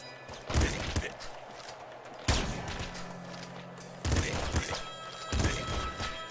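Shotgun blasts from the video game Nuclear Throne come as several loud, punchy bursts spaced a second or two apart, each followed by a brief rattling tail.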